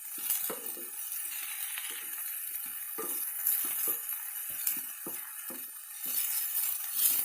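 A vegan meatless loaf mixture cooks in a hot pan, with a constant frying sizzle broken by frequent small pops and crackles, close and moderately loud, and no voices.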